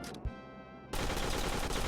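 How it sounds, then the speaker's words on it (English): Rapid gunfire from terrorists in the video game Air Control, a loud continuous burst of shots that starts abruptly after a brief quieter tonal passage and holds steady to the end. "the spread on their guns is random, and one bullet kills you"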